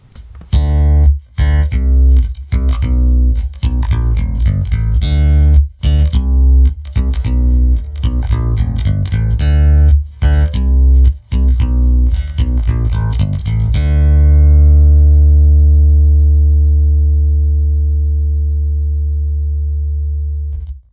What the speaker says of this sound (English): It's a fantastic sounding acoustic bass.